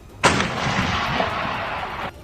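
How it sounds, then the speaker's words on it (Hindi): An artillery cannon fires a shell: one sharp, loud blast opens a roaring two-second rumble that holds steady and then cuts off, with no voices. "इसके बाद जैसे ही हमले का इशारा मिला, एक तोप से गोला दाग दिया गया।"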